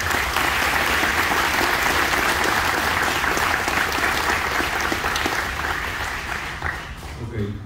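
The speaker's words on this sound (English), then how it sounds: "Let's give them all a round of applause." Sustained applause from a crowd at an outdoor Memorial Day ceremony honoring veterans' organizations, steady and full for several seconds before tapering slightly at the end.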